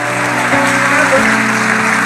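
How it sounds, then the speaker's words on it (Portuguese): A church congregation applauds during a worship service: loud, continuous clapping blends with a sustained held keyboard or organ chord underneath, filling the brief moment without speech. "Quem pode aplaudir o Senhor da glória?"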